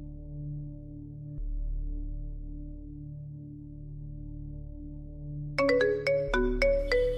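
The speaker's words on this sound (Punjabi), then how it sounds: "ਕੰਪਨੀ ਵਾਲਾ ਦਾ ਫੋਨ ਆ" A mobile phone rings for an incoming call, playing a looping melodic tone pattern. Near the end, brighter, louder chime notes repeat in quick bursts.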